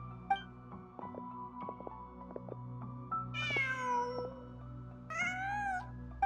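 A cat meows twice in a video game, each call a clear rising-falling cry standing out over a steady musical background with soft ambient tones.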